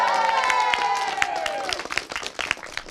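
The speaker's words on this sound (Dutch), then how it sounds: "Ja, applaus voor hemzelf!" Applause and cheering from a theater audience for a school musical production, starting over a held musical tone, then scattered claps that fade and thin out toward the end.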